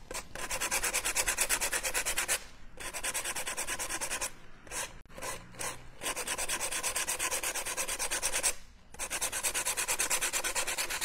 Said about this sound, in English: what I'm going to do very gently on my dry gold leaf, this is important, I'm going to sand.